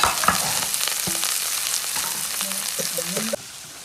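Onion, ginger and chopped green chili sauté in oil in a pan for a Malayalam tuna thoran, giving a steady broadband sizzle with a few soft stirring clicks, easing off near the end.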